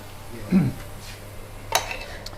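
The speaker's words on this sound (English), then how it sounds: "So we're going to dish up. Dishing up now." Saag paneer is dished up from a hot pan in a restaurant kitchen, with two distinct metallic clinks of spoon against pan or plate over a quiet kitchen background.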